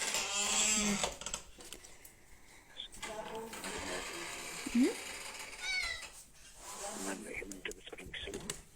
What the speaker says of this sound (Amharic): ድመት የወለደች ድመት ነበረች።